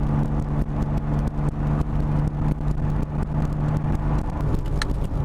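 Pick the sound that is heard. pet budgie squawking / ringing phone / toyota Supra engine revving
toyota Supra engine revving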